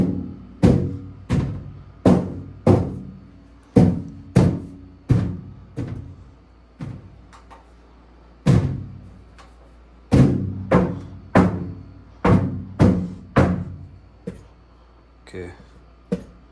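A Bertazzoni range vent hood struck by hand over and over, producing loud, close metallic thumps in uneven bursts, some fast groups and some pauses, with no talking.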